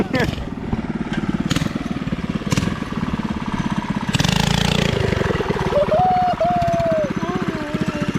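A Coleman minibike with a swapped-in 212cc engine revs hard during an attempted wheelie, a loud, close, rapid-firing small engine drone that surges and rises in pitch midway, with people talking over it.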